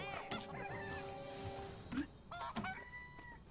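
Hens cluck and squawk repeatedly from the chicken coop card in South Park Phone Destroyer, several sharp calls mixed with game music and effects, fairly close.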